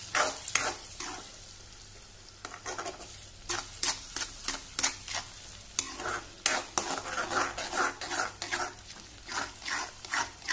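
Bread bhaji ingredients are stirred and mixed in a pot with a spoon, giving repeated scraping strokes in an irregular rhythm, close and fairly quiet.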